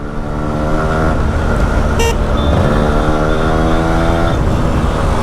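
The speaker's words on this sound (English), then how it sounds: "Just to give you an example, the bike is running absolutely better." A Yamaha RX135 four-speed motorcycle fitted with an aftermarket CDI runs steadily and loudly up close, its engine drone holding a continuous tone throughout, with a brief sharp burst partway through.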